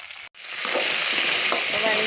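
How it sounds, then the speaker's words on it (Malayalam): Okra hits hot coconut oil in a pan and erupts into a loud, close, continuous sizzle after a brief moment of near silence, with faint stirring scrapes under the frying. "വെണ്ടയ്ക്കൊന്ന് കുറച്ച് വെളിച്ചെണ്ണ വെച്ചിട്ടൊന്ന് വഴറ്റിയെടുക്കുന്നുണ്ട്"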